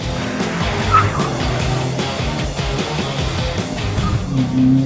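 A Honda Prelude drag races a VW Jetta GLI, engine noise droning continuously and strongly with tire roar and shifting pitch as the cars accelerate hard.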